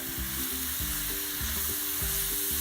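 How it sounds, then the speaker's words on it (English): Shredded cabbage fries in a pan as smoked paprika is stirred in, making a loud, dense and continuous sizzle close by. A rhythmic scraping of the stirring runs beneath it, with no talk. "sprinkle a little bit on there, give it a nice stir"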